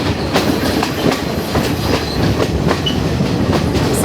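A train running on the rails from Ella to Kandy in Sri Lanka rumbles loudly and continuously, with a rhythmic clickety-clack of wheels over rail joints heard up close from aboard.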